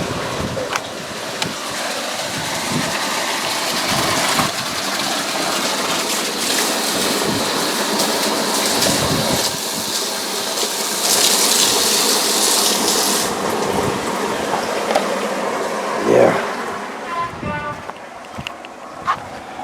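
Water gushes and splashes into a muddy hole at an underground workshop bunker dig, a continuous rushing wash with occasional louder surges and clunks, close by and fairly loud.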